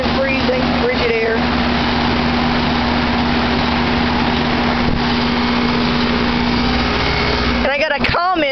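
Goodman heat pump running in heat mode gives a loud, steady droning hum with a persistent tonal whine throughout, and brief voice-like sounds near the start and end.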